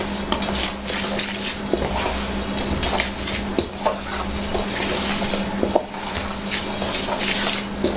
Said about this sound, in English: Start out with a spoon, mix this around, get it all nice and cozy.